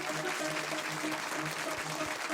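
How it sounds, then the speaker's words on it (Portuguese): A studio audience applauds a Formula 1 driver on a talk show, steady, dense clapping that fills the room at full volume throughout. "não vamos economizar nos aplausos para o nosso piloto de Fórmula 1"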